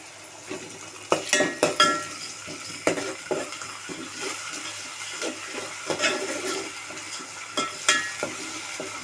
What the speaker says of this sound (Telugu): ఇది పచ్చివాసన పోయే వరకు వేయించుకోవాలి